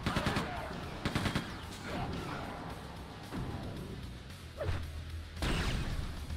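Gunfire in the first-person shooter Quake II: The Reckoning, with a rapid burst of shots up front, then scattered single blasts and impacts over a rumbling game backdrop, some speech mixed in.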